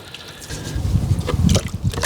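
Water poured and splashed onto car paint before wet sanding with 3000-grit paper: a close, irregular watery splashing and trickling that swells after a quiet start and continues steadily.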